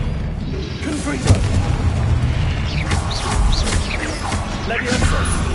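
Booming blasts from the Confringo blasting spell in a Harry Potter duel, heavy low thuds and crashes repeating under a busy mix of shouted spell voices.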